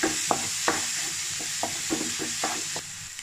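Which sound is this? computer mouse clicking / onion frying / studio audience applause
onion frying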